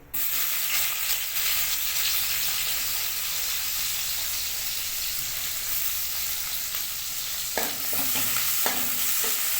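Chopped onion fries in hot oil in a pan for a soybean and potato rice dish. The loud, continuous crackling sizzle is close and steady, and a few stirring scrapes come toward the end.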